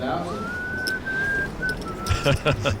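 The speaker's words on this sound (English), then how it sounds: "You know you're whistling again, right?" A poker player at the table whistles a few sustained notes in a thin, clear tone, then voices break in and talk over the end.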